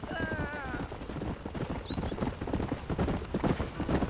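Horse hooves clip-clop at a steady trotting rhythm in a Western-style video game, close and clear, with a horse whinnying at the start and a voice talking over the hoofbeats.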